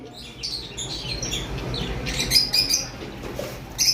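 Conure parrots call from nearby with sharp chirps and squawks scattered over a few seconds, the louder bursts coming toward the end against a low background rumble, with no one speaking.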